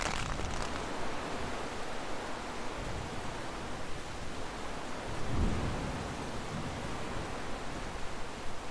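A thunderstorm with torrential rain and strong winds batters a wild camp in a Hilleberg Soulo tent. The steady roar of rain is broken by a deep thunder rumble partway through.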